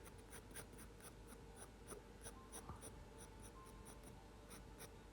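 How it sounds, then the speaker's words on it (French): A dry pencil sketches light lines on paper without pressing, producing a soft continuous scratching with quick repeated strokes, close and quiet throughout with no voices. "je viens progressivement tracer chaque forme sans rentrer dans le détail, sans appuyer, avec un crayon très sec"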